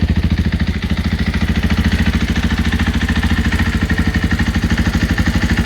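Dirt bike fitted with a new FMF 4.1 titanium exhaust and spark arrestor, idling loud and close as it warms up, with an even, rapid thumping pulse throughout.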